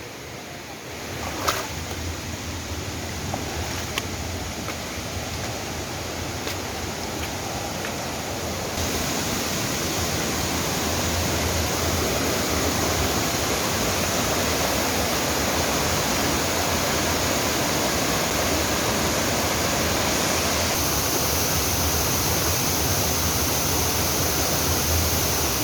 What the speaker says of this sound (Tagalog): Dito na kami sa Alitap Falls.